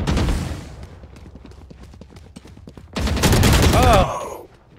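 Gunfire in the shooter game Valorant: a loud opening burst, then a rapid run of sharp single shots, then another dense, loud volley before it cuts off, with a brief voice under it.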